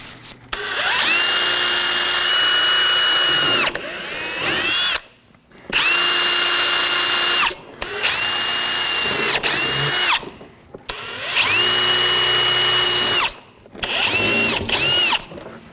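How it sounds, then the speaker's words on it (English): A power drill with a 7/64 bit drills out the rivets on a front inner fender liner flap of a 2013-2019 Nissan Sentra, in four long whining bursts and one short one, separated by brief pauses, loud and close. "I'm going to take a 7/64 drill bit and drill the rivets out."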